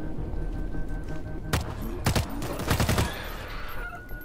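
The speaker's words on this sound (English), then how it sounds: "The recoil on this gun is just terrible." Several bursts of automatic gunfire from an Uzi in a first-person shooter, loud sharp volleys separated by short pauses over a steady background game hum.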